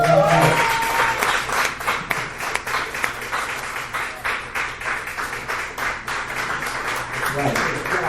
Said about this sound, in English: First round of applause is Travis Grossi